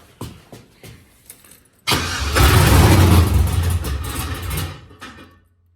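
An LS-swapped project car engine with a sloppy stage 2 cam cranks a few times, catches and roars loudly for a couple of seconds, then falters and dies out, leaving silence.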